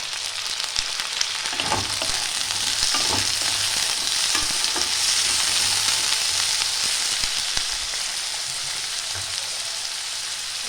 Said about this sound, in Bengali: মিডিয়াম টু লো ফ্লেমে আঁচটা দিয়ে আমি আলুগুলো ভালো করে ভেজে নিচ্ছি।